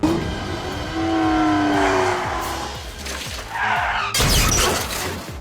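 A car crash hits hard in a movie scene: a loud smash of impact followed by bursting, shattering glass, with engine and road noise rumbling beforehand and a second sharp crash near the end.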